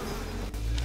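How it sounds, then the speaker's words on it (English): A swarm of bees in the video game Bioshock makes a loud, dense, continuous buzzing drone that fills the clip without a break. "But my bees sure do."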